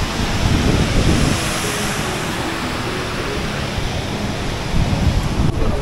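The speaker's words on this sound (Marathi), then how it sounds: "हा तो संगम, इकडनं आणि इकडून पाणी येते." Broad, steady rush of flowing water at a river confluence during monsoon, loud and close, mixed with wind buffeting the microphone.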